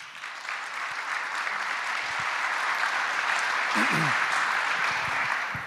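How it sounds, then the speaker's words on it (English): An audience at a prison event applauds continuously, a dense wash of clapping that swells slightly and holds, with brief voices and a cheer poking through near the middle. "Please join me in thanking DOC's Acting Commissioner, Anthony Annucci, and his executive team."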